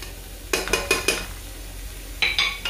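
Chickpeas with bay leaf and paprika stirred in a pot, a quick run of four scraping, clinking strokes followed by a pause and three more, close and fairly loud with no talking.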